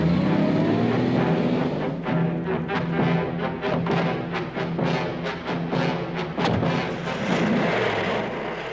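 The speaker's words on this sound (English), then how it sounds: "Sounds like my motor being revved up" Car engine revving hard up close, a loud growling roar with a rapid series of sharp throttle bursts and crackles, no talking over it.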